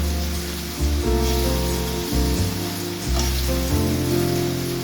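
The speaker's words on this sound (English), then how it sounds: "So right now I'm sauteing the seasoning before I add the calalo" Seasoning of tomato, scallion, onion, garlic, thyme, pimento and okra sautés in a non-stick pot before callaloo goes in, with a continuous close sizzle and crackle under a low, steady hum throughout.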